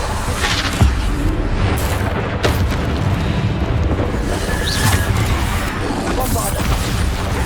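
Repeated booming spell blasts in Hogwarts Legacy, Bombarda explosions mixed with other combat spells, loud and dense with bursts landing every second or so over a busy, continuous roar.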